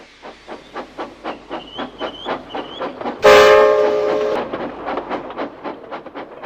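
A steam engine pulls a train of coaches, its rhythmic chuffing beats steady and close, broken midway by a loud sustained burst of hissing steam with a whistle-like tone before the chuffs resume.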